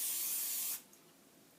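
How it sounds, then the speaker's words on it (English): A short hissing burst of vegetable or butter oil sprayed into serving dishes, loud and close for under a second, then cut off into near silence with a small click at the end. "You're gonna spray some vegetable or butter oil"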